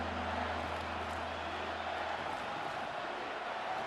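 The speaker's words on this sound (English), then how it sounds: "the crowd getting into it as we come up on a big 3rd down" A stadium crowd in the Madden 26 football video game cheers as a big third down approaches, a steady distant roar of many voices at moderate level with no talking over it.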